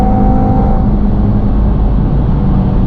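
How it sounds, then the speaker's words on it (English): An Audi TT RS running an APR Stage 1 tune accelerates hard toward 72 mph, its engine a loud, steady roar heard from inside the car with no break. "we accelerated quite quickly to 72 mile an hour then"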